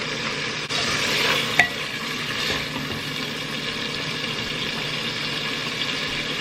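Hot pot soup base stir-fries in a pan, giving a soft, even sizzle under a low steady hum, with a single faint clink of a utensil partway through.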